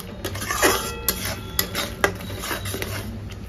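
A spoon stirs and scrapes food in a cooking pan as the moisture is cooked off, giving repeated light metallic clinks and scrapes in an irregular rhythm over a low background hum, close and moderately loud.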